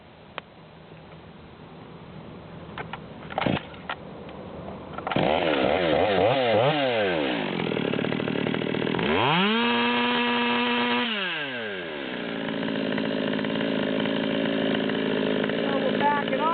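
A Stihl MS200 chainsaw revs up from idle to a loud, steady high-idle whine, with pitch sweeping up and down between sustained runs, close and dominant, with brief clicks before it starts.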